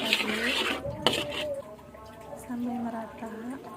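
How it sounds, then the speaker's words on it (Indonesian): A utensil stirs Super Mi ayam bawang instant noodle seasoning into water in a cooking pot, with a sharp clink near the start and soft scraping, under a quiet voice speaking. "Kemudian kita aduk-aduk"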